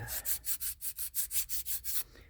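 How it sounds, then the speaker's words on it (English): Hand sanding along the edges of a resin craft piece, about ten even rasping strokes in a steady back-and-forth rhythm, close and fairly loud with no talk. "make sure it's all sanded good. I sanded it on the top, but I didn't sand the edges."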